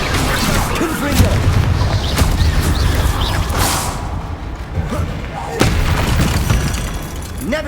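A Confringo fire spell bursts in Hogwarts Legacy, heard as loud booming thuds and blasts repeated over several seconds amid busy game combat noise.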